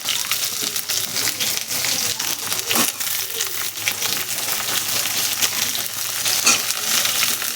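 Onion and pointed gourd (potol) frying in a pan, a steady close hiss of sizzling oil with soft crackles and occasional stirring scrapes, continuous throughout.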